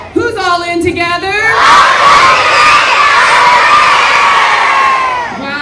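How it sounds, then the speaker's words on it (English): A crowd of children at a school den-time assembly screams and cheers loudly and continuously for several seconds, after a short sung phrase at the start. "We are screaming."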